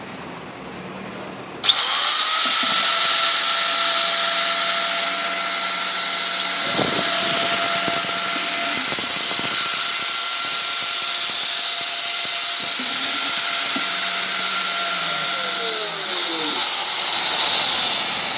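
Powerbilt 4-inch 1100 W waterproof angle grinders switch on abruptly and run at full speed with a loud, steady high-pitched whine, a second motor tone running alongside, then both begin winding down near the end.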